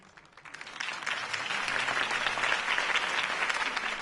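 Crowd applause at a political campaign rally in a Batman video game, a dense roar of clapping that swells after a quiet start and holds steady and loud to the end.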